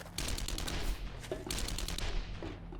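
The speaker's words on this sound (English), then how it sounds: "I hear someone firing an AK or something." Distant AK rifle fire in the video game 7 Days to Die, with repeated bursts of muffled shots rolling across a noisy background and no voices.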